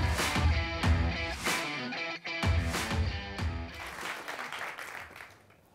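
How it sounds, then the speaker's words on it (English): Audience applause at a FameLab International science-communication competition semi-final, welcoming a Bulgarian contestant; a sustained burst of clapping from a crowd that swells, dips briefly and then thins out toward the end. "So an extra Bulgarian boost of applause, please, for Boris Yanashkov."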